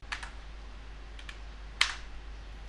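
Keys tapped on a computer keyboard while a debugger command is typed, a few quick close clicks in small bursts with one sharper keystroke, over a quiet background hum.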